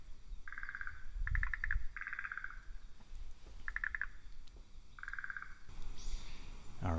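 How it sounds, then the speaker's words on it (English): Frogs call in short repeated trilling bursts, several calls overlapping back and forth at moderate distance over a quiet outdoor background. "I think here we just have more frog sounds."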